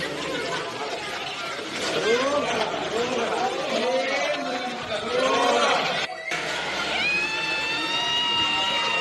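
A crowd celebrating Vijay Thalapathy's Tamil Nadu election win outside his residence, a busy mix of excited voices, shouts and chatter, close and lively, with a brief break before the noise resumes.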